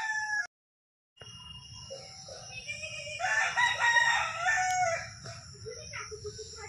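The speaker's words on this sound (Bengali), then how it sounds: "মুরগি ডাকছে পাশে কোয়ার্টারে, ওরা মুরগি পোষে, মুরগিটা ডাকাডাকি করছে" A pet rooster crows from the neighbouring quarters, one clear drawn-out call in the middle, moderately distant, over a low background hum and faint clucking.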